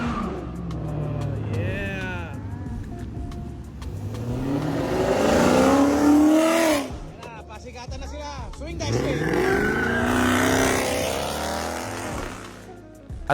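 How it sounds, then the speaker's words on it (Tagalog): A Chrysler 300 SRT and a Camaro trade exhaust revs at a car meet, loud rising and falling engine sweeps in repeated bursts, with voices talking over them. "nagpasiglaban sila ng exhaust"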